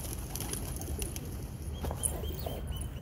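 Hobby pigeons kept in a loft near the border coo softly amid a steady outdoor background hum, with faint chirps and occasional wing sounds, no talking.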